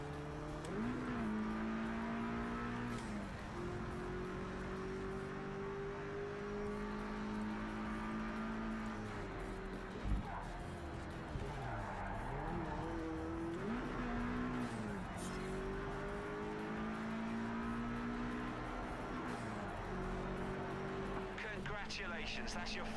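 Race car engines droning steadily through a race in Project CARS 3, with pitch rising and falling across gear changes, loud and continuous and mixed with a speaking voice.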